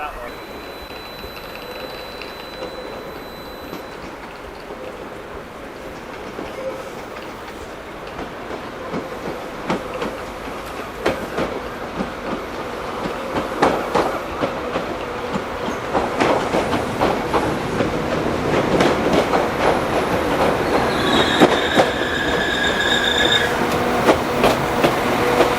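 A train pulls into a railway station platform in Wales, with a low rumble and rhythmic clickety-clack that grows louder and nearer, wheels squealing as it slows and people talk on the platform.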